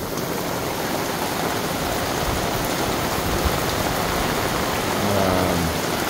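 Heavy rain pours steadily and loudly, a dense unbroken hiss of drops hitting the ground and surfaces, with no voices over it.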